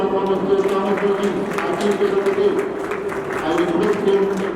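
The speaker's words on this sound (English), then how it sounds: "A big round of applause for Mr. Thomas Modi." Audience at a textile trade fair in Delhi applauding a speaker, a crowd clapping at moderate distance over a steady hum and some background voices.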